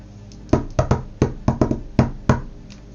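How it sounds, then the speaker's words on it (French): Knuckles rap on a door in a deliberate pattern, about nine sharp knocks in uneven groups with short pauses between them, close and distinct, with no voices. "il frappe à la porte d'une certaine façon."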